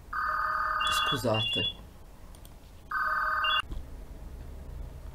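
A telephone rings in two loud bursts separated by a pause, with a brief spoken apology between them, close to the listener in a quiet indoor room.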